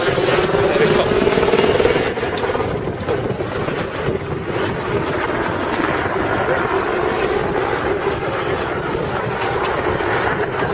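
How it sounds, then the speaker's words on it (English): A helicopter flies overhead at the start of the Marathon des Sables desert race, a loud steady rotor drone blended with heavy wind buffeting and voices nearby. "Helicopter."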